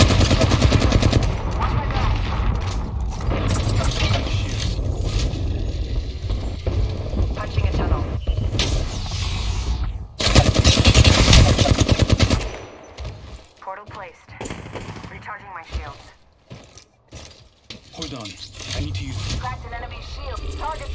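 Automatic gunfire from an Apex Legends firefight, loud and sustained bursts in the first half, then quieter scattered shots and a reload, with a voice speaking over the action.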